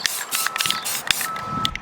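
Short hissing bursts of spray paint applied in a light coat onto a skateboard, close and fairly loud, in quick repeated passes with small pauses.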